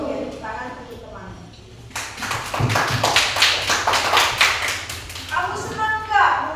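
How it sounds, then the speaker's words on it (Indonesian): A class of fifth-grade primary school children claps hands in a classroom, a dense burst of rapid applause starting abruptly and continuing for several seconds, with voices talking before and after it. "Oke, tepuk tangan untuk teman."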